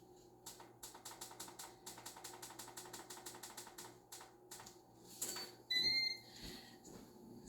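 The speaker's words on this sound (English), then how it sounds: "What we have to do next is we have to preheat the air fryer to 400." An air fryer's control panel is set to preheat at 400 degrees: a quick, even run of soft button clicks, a pause, then a few clear electronic beeps, all close and fairly quiet.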